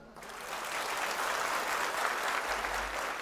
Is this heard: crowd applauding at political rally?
yes